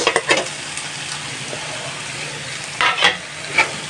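Dried fish bharta fries in a pan as a loud, steady sizzle, with bursts of scraping stirs at the start and again near the end.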